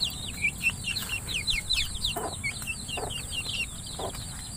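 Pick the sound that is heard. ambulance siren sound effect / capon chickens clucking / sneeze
capon chickens clucking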